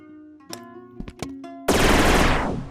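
A gun built in the Rec Room game firing, a few sharp separate shots followed by a dense rapid burst that fades out, with a faint tonal hum underneath.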